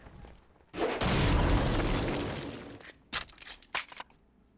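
A loud explosion blast in the video game Saints Row: Gat Out Of Hell, a sustained roaring burst lasting about two seconds that fades, followed by a few short sharp impacts.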